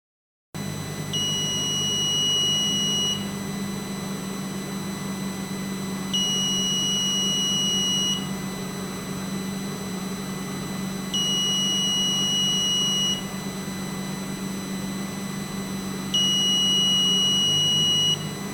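An active buzzer driven by a Raspberry Pi sounds four evenly spaced, loud, steady electronic beeps, each lasting about two seconds, over a faint low hum and separated by quiet gaps.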